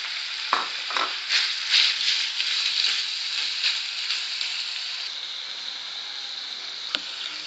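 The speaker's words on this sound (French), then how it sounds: "rajoutez la viande hachée et faites-la cuire quelques minutes" Minced meat frying in oil in a pan over medium heat gives a loud, steady, close sizzle, with a few stirring scrapes early on and a single sharp knock near the end.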